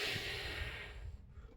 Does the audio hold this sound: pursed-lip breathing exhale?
yes